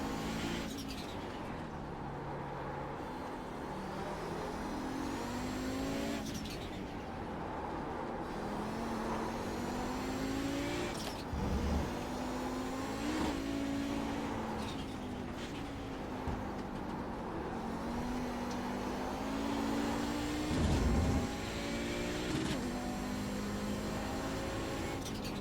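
Audi 90 GTO vintage IMSA race car on track at Mid-Ohio, its engine droning steadily with repeated rising and falling pitch sweeps as it shifts through gears and other cars pass nearby.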